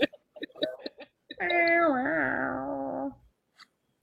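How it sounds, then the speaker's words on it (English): During a Call of Cthulhu tabletop session, after a few soft clicks, a single long, drawn-out meow wavers in pitch for about two seconds, then fades, followed by a faint click. "you start to hear really, really low at first cat sounds like meow."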